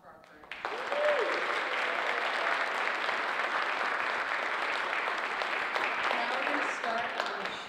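An audience breaks into sustained, even applause at a high school International Thespian Society induction ceremony, rising quickly after a brief spoken moment and continuing steadily before easing slightly.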